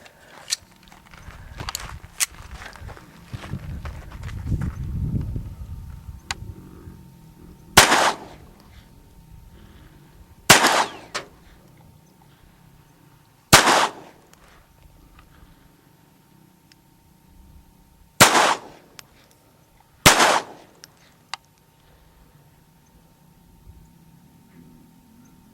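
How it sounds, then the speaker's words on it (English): A Walther P22 pistol firing Winchester Super X copper-plated 36-grain hollow point rounds outdoors: five sharp, loud shots spaced a few seconds apart, preceded by handling and shuffling noises. "we're going to be using the Walther P22. We're going to be shooting the Winchester Super X, copper plated, 36 grain hollow point."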